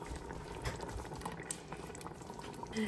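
Chili with kidney beans, chili beans and tomato sauce simmers in a pot, giving a faint, steady bubbling and popping that carries on without pause and with no talking.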